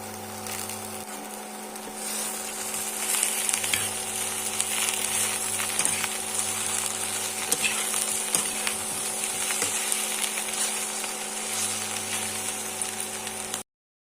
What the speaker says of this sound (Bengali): কুলগুলোকে 5 থেকে 7 মিনিটের জন্য ভালো করে ভেজে নিতে হবে